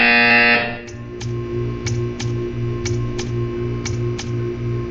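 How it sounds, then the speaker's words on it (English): Buzzer in the Portal 2 video game, a short series of sharp repeated buzzes in a steady rhythm over a low electronic hum, following a brief loud tone at the start. "You will hear a buzzer."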